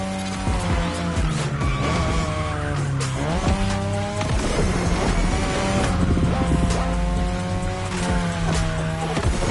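A third-generation 2002 Mazda RX-7 with a rotary engine races in The Crew Motorfest game, its engine revving loud and continuous while tires squeal and skid through turns, with music underneath.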